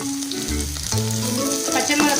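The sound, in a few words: sautéing in a pan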